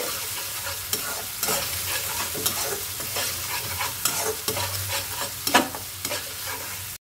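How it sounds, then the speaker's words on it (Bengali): Ginger-garlic paste frying in a pan for a fish curry, with a steady sizzle and repeated scraping stirs of the spatula throughout, close and fairly loud, no voices. "আমার আদা রসুনটাও কিন্তু একদম কষানো হয়ে গেছে, মানে ভাজা হয়ে গেছে"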